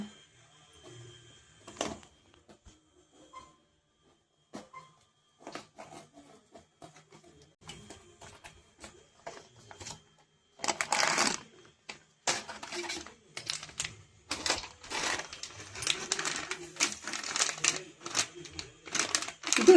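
An Aachi pani puri kit packet is torn open up close: sparse crinkles and taps at first, then a loud burst of plastic crackling and rustling that continues in bunches to the end.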